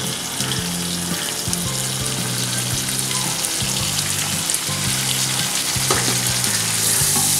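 Steady, loud sizzling and crackling of onions and tomatoes frying in a pan, continuous throughout with no voices.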